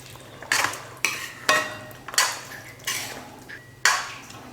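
A utensil scrapes and knocks against a pan of chicken gravy in six steady strokes, each a bright scraping swipe that fades, with a faint sizzle underneath.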